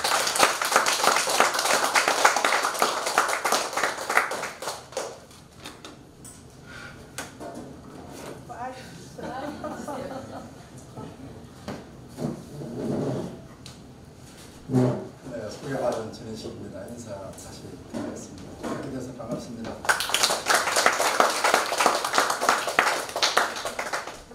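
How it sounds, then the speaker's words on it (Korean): An audience at a book concert applauds to welcome an author, with loud, sustained clapping at the start and again at the end and people talking in the quieter stretch between. "힘찬 박수 부탁드립니다."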